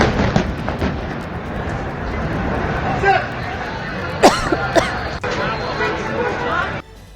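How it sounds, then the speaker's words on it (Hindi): A blast from an air strike in news footage booms once, with a second sharper bang soon after, over a crowd of people shouting and chattering in panic. "आप सुन भी रहे हैं ये आवाजें लोगों की और एयर स्ट्राइक का धमाका"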